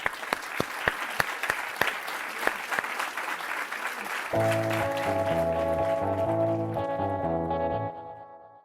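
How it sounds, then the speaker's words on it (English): Audience applause for panelists at a conservative discussion event, a dense round of clapping with sharp individual claps for about four seconds, then giving way to a sustained musical outro tone that fades out. "let's give our panelists another round of applause"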